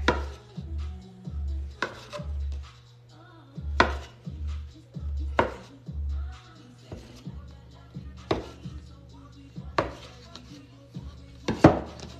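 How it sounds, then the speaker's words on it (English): A knife chops through soft pretzel dough into bites on a board, with a dozen or so sharp irregular thuds and taps against the surface, close and clear over a faint low hum. "now we're gonna cut some bites"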